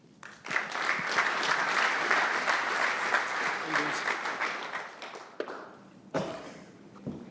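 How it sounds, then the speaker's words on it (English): Audience at a talk on culture, leadership and operations in the Bakken, applauding to welcome a speaker: steady, fairly distant clapping from a large crowd lasting several seconds, then dying away with a few scattered claps and thumps. "Please join me in welcoming Tony."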